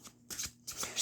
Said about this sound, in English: But honestly, I can just shuffle this deck.